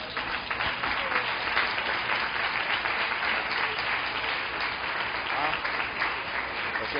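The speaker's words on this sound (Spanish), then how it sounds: "Aplauda para el Señor, hermano." A church congregation at a live worship service applauds for the Lord, producing a dense, continuous patter of clapping that fills the room, with voices faintly mixed in underneath.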